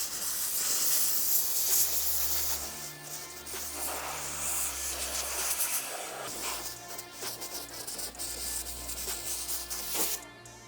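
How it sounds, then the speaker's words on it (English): Compressed air hisses steadily from a nozzle, blowing loose dust off a pair of Nike Futura Dunk sneakers at a cleaning station, a broad continuous rush with brief dips and surges throughout. "I'm all done using the air compressor to really blow out, get off all that loose dust"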